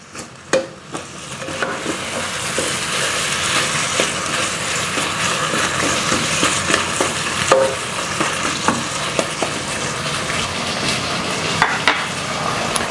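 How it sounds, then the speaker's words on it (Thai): Pumpkin is stir-fried with red curry paste in a hot pan, giving a steady close sizzle with repeated scraping and clinking stirs throughout and no speech. "เดี๋ยวผัดให้ ฟักทองเนี่ย มันโดนกับพริกแกง สักนิดนึงก่อนนะครับ ให้มันมีความหอม"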